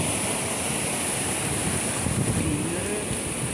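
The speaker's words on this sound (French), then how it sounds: "Il y a une cascade." Continuous broad rushing of a waterfall near small villages around Malmedy, steady and moderately loud with no voices.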